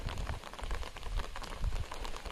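Steady rain patters outdoors on a garden during a sunshower, a dense, even hiss of drops with soft close splashes and no voices.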